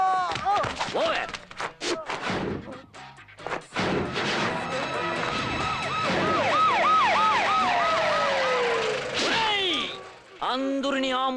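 A loud, close ambulance siren wails with rising and falling sweeps amid street commotion in a comedy film scene, preceded by a crash and overlapping shouting voices.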